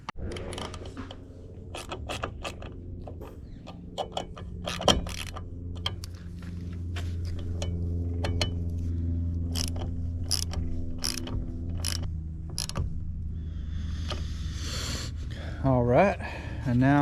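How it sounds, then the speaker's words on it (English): Lock nuts on Jeep TJ windshield pod light mounts tightened with a ratchet, a series of quick sharp clicking bursts over a low steady hum, with a brief voice near the end. "I'm going to tighten these up now."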